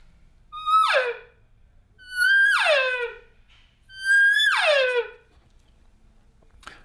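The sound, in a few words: cow elk mew imitated with a latex elk call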